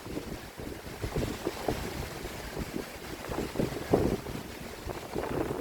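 Strong evening wind at the seaside in Bang Saen, Chonburi, buffets the microphone in rumbling gusts with surf beneath, loud and uneven, swelling and easing throughout.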